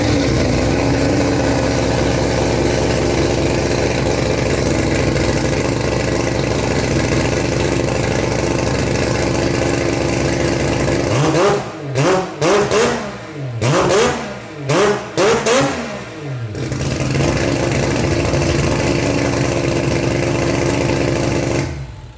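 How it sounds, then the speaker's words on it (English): A V8 car engine fitted with FTSPARK ignition runs loud and close at a steady rumbling idle, then is blipped through a rapid series of sharp revs before settling back to its deep idle. "I know you've never heard the 8 fire up, so I'm going to do a couple of little things to prep it and start it up for you"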